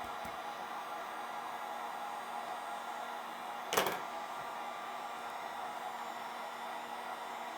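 A heat gun runs with a constant airy whoosh while EVA foam is heated to shape a cosplay pivot hinge, steady throughout and broken by one brief sharp knock near the middle.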